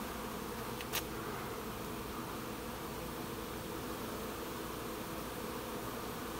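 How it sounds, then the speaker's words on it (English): A steady, droning hum of many bees buzzing together, faint and constant, with one brief sharp tick near the start. "see if those bees are absconding from that box I just put them in"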